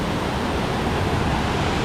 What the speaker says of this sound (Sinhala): ඉතින් ඔයගලන්ට හොයාගන්න පුළුවන් මේ වතුර සද්දයක් මෙතන පොඩි දිය පාරක් තියෙනවා.